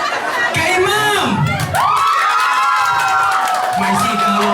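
Large Filipino crowd of adults and children cheering, shouting and whooping loudly in continuous overlapping bursts, with some clapping mixed in and voices calling out over the din.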